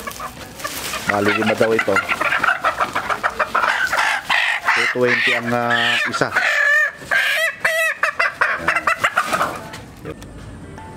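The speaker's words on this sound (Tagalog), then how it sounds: "So ito, bubili na kami ng lalaman na manok." Chickens cluck and crow loudly and up close at a poultry seller's, with a person talking over the birds throughout.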